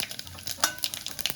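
Fenugreek seeds, cumin and bay leaf hit hot oil to temper a vegetable curry, giving a soft, quiet sizzle broken by small crackles and light clinks of a spoon against the pan.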